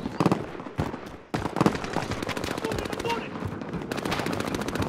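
A Death Machine minigun fires in Call of Duty: Modern Warfare, dense rapid bursts rattling loudly with brief gaps between volleys, mixed with other battle noise and a voice talking over it.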